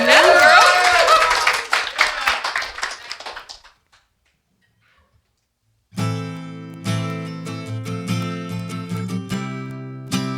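Applause and scattered claps from an audience greeting a singer, loud and dense for about four seconds, then fading out to silence before music begins.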